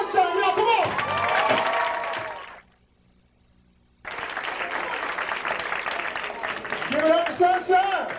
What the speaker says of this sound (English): Let's give a nice round of applause for Sunshine, y'all, come on!